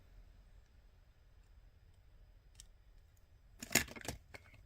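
Small cutters snipping off excess beading wire while making earrings, a couple of quick crisp clicks near the end against a quiet background.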